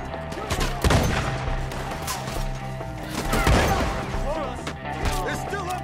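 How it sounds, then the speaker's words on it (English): Gunshots ring out in a Red Dead Redemption 2 firefight against enemies hidden up in the trees: several sharp reports at irregular intervals, mixed with shouting voices and background game sound. "Shoot the ones up there!"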